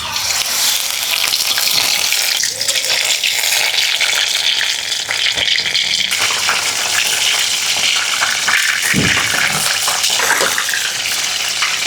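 Prawn pakoras fry in hot oil, a loud continuous crackling sizzle close up with brief stirring clatter, no talk.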